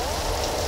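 Rain in Garry's Mod falls as a dense, steady hiss of drops, loud and constant across a very brief moment with no talking.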